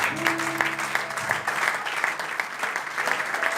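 A church congregation applauds in steady, dense clapping that fills the room at a constant level. Faint sustained tones run underneath at first.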